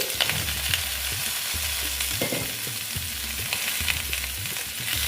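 Pumpkin pieces fry in a pan of hot oil, a steady close sizzle running throughout with occasional stirring scrapes and no voices.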